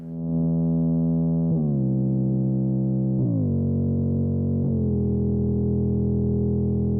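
A sustained synthesizer tone playing chords in parallel major thirds, shifting pitch in steps about every second and a half, clean and alone.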